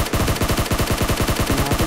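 Rapid automatic gunfire in the mobile battle royale game PUBG Mobile, a loud, close, continuous burst of evenly spaced shots firing about ten per second with no pauses.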